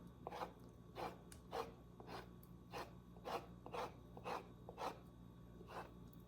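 A utensil scrapes impurities off a solid disc of beef tallow in a steady series of short, rasping strokes about twice a second, faint and close, with a low hum beneath and no talk.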